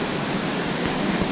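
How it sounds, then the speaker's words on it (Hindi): Alaknanda river rushing below Badrinath temple, a dense, steady broadband roar of fast-flowing water with no breaks, heard close and loud for a brief moment. "नीचे बह रही है अलकनंदा"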